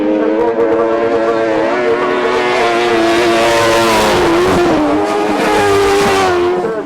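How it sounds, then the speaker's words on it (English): Grasstrack racing sidecars at the 2011 Kings of Speed meeting, several engines roaring loud and close in a sustained droning blare that shifts in pitch as the outfits pass. "Super sidecar action in race number 31"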